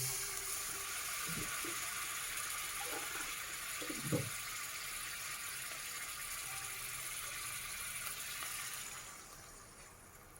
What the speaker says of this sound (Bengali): এবার আমি এর মধ্যে জল অ্যাড করে দেবো।